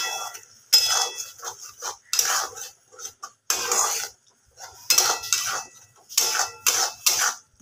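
Spiced chicken masala is stir-fried in a pan in bursts of metal spatula scraping and clanking against the pan. The strokes come in an uneven rhythm with short pauses between them, loud and close, and no one speaks.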